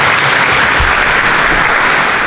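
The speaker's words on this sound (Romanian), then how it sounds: "S-o aplaudăm pe Iulia Bencea." Audience applause for a speaker at a digital marketing conference, a dense steady wash of clapping filling the whole moment at close, loud level with no talk over it.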